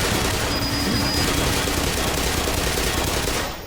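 Turrets in the video game Black Mesa pour out loud, sustained automatic gunfire, a dense unbroken roar of rapid shots lasting several seconds before easing slightly at the end.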